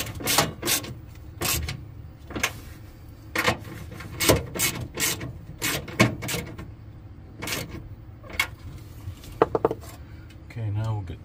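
A ratchet on a wobble extension works the blower motor fasteners of a BlueBird school bus, with bursts of sharp metallic clicks and clinks in irregular clusters, close up, with gaps of quieter shuffling between them.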